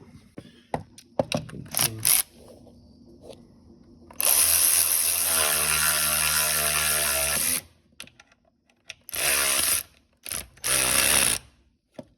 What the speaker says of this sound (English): now I'm just gonna slowly ratchet this bolt tight